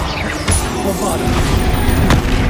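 Booming Bombarda explosion spell in the Hogwarts Legacy video game: heavy, crashing blasts with sharp impacts near the start and end over a continuous low rumble.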